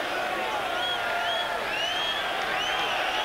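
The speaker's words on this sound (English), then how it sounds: "A lot of booing in the crowd" Dense arena crowd noise at a 1995 heavyweight boxing match in a darkened hall, a steady loud roar with rising, wavering voices that carry a sustained booing quality throughout.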